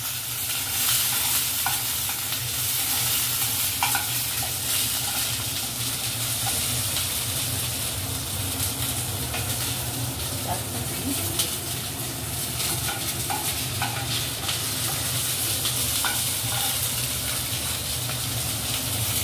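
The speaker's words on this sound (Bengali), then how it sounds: "তেলের মধ্যে কালো জিরে দিয়ে দেয়া হলো। কালো জিরেটা একটু নাড়াচাড়া করে তার ভেতর দিয়ে দেয়া হলো কাঁচা লঙ্কা" Nigella seeds and green chillies fry in hot oil, giving a loud, steady sizzle with repeated stirring scrapes running throughout and no talking.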